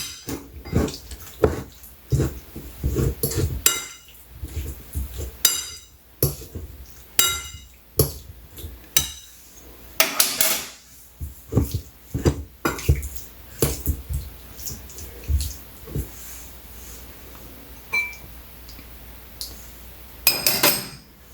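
Ginger garlic paste being mixed into ingredients in a pan, with repeated clinks and scrapes of a utensil against the pan in irregular bursts, fairly close, with no talking.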